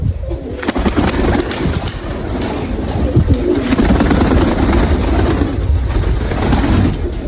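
Young black-bald pigeons coo in a loft, soft rolling calls repeating under steady background noise, with faint rustling and wing sounds.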